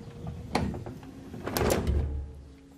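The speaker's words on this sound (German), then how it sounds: "Und ihr hört und seht, die Tür fährt auf." Door of a Neoplan N4016NF bus fitted with a new door controller, opening with a short pneumatic hiss and mechanical clunks, a sharp knock early and a louder rushing movement near the end, heard close up.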